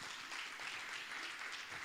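Faint, distant applause from an audience, a steady patter of clapping that continues throughout.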